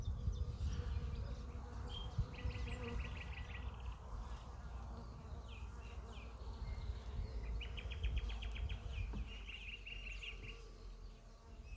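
Honeybees buzz around an open hive during a frame inspection in an apiary, a dense, steady drone with individual bees whizzing close past the microphone, plus faint birdsong in the background.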